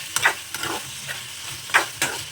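Chicken liver frying in a pan over a gas stove on high, a faint sizzle under several bursts of spatula scraping and stirring, close and brief.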